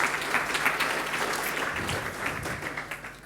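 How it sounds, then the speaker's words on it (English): A conference audience at an IT security event applauds a speaker, a dense, steady round of clapping that swells briefly and gradually thins toward the end. "Please give Markus a warm round of applause"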